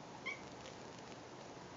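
A cat, coaxed by its owner, lets out a single short, faint meow early on over a steady quiet hiss, with no one speaking.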